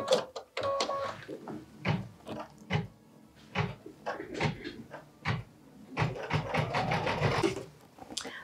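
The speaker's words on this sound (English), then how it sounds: "Machine step 7 is stitching the window stitch lines." A sewing machine stitching window lines on a Christmas mini library project, running in short repeated bursts with brief pauses between them, close and fairly quiet, with no talk.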